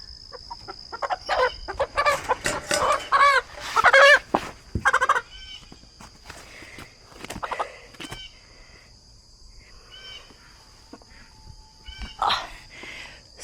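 Chickens clucking and squawking up close, with a dense flurry of agitated calls early on that thins into scattered clucks, heard over a faint steady hum, with no one speaking.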